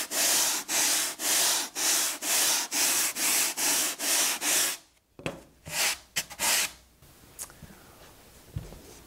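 A polyurethane foam pattern is sanded by hand with about ten even, regular rubbing strokes, close and clear. Slower, irregular scrapes and handling noises follow.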